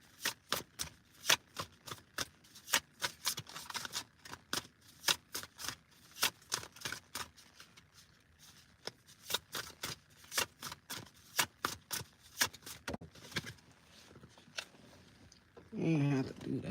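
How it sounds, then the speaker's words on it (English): Tarot cards being shuffled by hand, a long run of sharp riffling snaps and flicks in an irregular rhythm, close and crisp, with a brief rustle at the end and no speech. "I'm gonna shuffle up some more"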